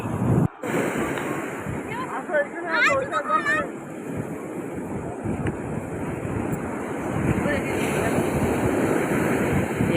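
Ocean waves breaking and washing up on a beach at Puri in a continuous roar, with wind buffeting the microphone and brief chatter early on.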